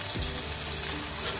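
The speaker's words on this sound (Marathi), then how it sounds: "2-3 मिनिट मस्त परतवून घेऊया।" Chopped tomato and curry leaves sautéing in a pan for a monsoon wild-vegetable (kantola) dish, giving a steady soft sizzle and crackle throughout, with no talking.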